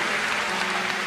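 A church congregation claps during a worship service. The applause is steady and dense for about a second, a continuous wash of hand claps with no talking.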